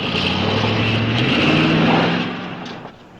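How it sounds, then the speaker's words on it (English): A car approaching along a detour road, its steady engine drone loud and close before easing off toward the end. "I think I hear a car coming."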